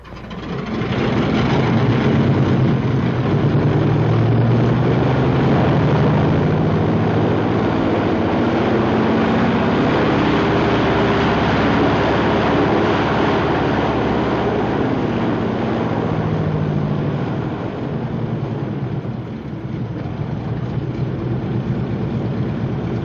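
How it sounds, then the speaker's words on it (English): A P-47 Thunderbolt's heavy piston engine roars steadily at high power during a ground run-up, a deep continuous drone that stays loud throughout and eases slightly near the end. "the crew chief runs up the engine and makes one final check"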